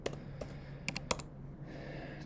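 Brief burst of typing on a computer keyboard, a quick run of close, crisp key clicks in small clusters over a faint background hum, with no talking.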